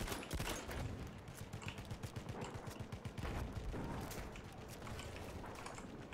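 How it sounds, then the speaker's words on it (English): Enemy machine gun fire in the Battlefield 1 video game, a dense, loud rattle of rapid automatic bursts and overlapping shots with a steady rhythmic chatter through the middle, amid a chaotic multiplayer battle. "Enemy machine gun."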